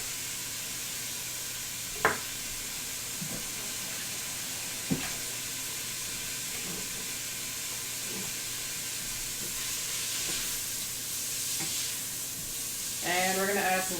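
Chopped sun-dried tomato sizzling in a hot frying pan, a steady close hiss running throughout, with a few sharp clinks of utensils against the pan and louder spattering toward the end.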